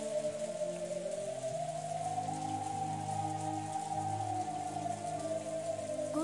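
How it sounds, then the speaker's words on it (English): Steady, even rain falls throughout in the video game Umineko When They Cry, a continuous soft hiss with a sustained tonal hum running beneath it. "The rain, which had been falling non-stop since the beginning,"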